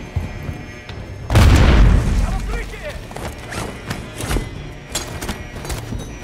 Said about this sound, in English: Fucking grenades, man.